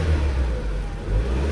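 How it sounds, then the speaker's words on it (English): A 2002 VW Passat engine revs up close, a loud low rumbling drone that swells and eases briefly with no talk. "when I rev the engine it goes to"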